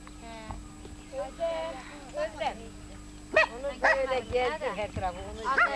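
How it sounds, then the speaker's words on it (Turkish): A small dog yips and whimpers in short, high bursts close by, over a steady background hum with some scuffling. "Köpeğimiz."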